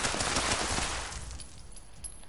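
Rapid automatic gunfire in Fallout 4 aimed at a turret: a dense, loud burst of shots that thins out and tails off into fainter scattered reports.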